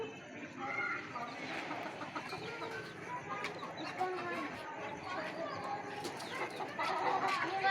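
Chickens and chicks cluck and chatter close by in a backyard pen kept alongside pigeons and rabbits, with soft overlapping peeps and clucks continuing throughout.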